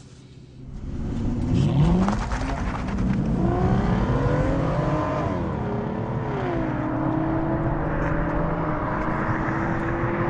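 An Aston Martin Rapide, two-wheel drive with no launch control, pulls away from standstill, its engine revving hard through rising, climbing gears with audible shift dips, loud and close, then holding a sustained high drone.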